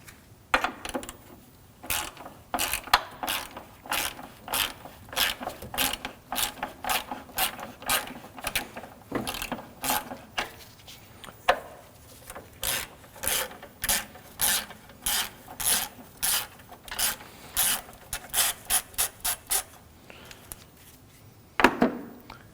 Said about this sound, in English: Now we'll remove the battery tie down using a 10mm socket.